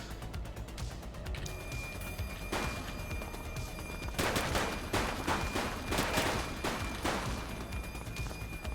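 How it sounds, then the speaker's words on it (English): Gunfire in the police video game The Precinct, bursts of shots and rattling volleys at moderate distance, building in the second half over a low background. "He's shooting!"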